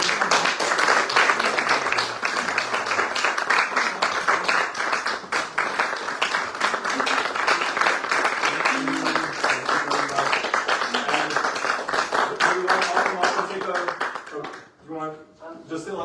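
An audience applauds at a live spoken-word performance, dense sustained clapping with voices and cheers mixed in, fading near the end as a voice speaks.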